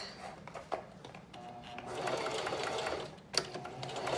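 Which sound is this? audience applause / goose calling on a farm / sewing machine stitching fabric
sewing machine stitching fabric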